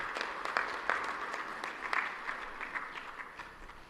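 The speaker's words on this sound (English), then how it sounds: "May I please request that we have 2 rounds of applause for our co-chairpersons" An audience claps for the co-chairpersons at the official opening ceremony of a regional summit, a fairly quiet, distant patter of hands that comes in uneven bursts and fades toward the end.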